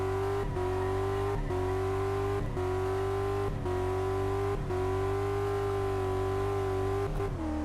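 A car engine driven in Car Mechanic Simulator 2014 drones steadily at moderate loudness, broken by about seven evenly spaced gear changes where the revs dip briefly before settling back.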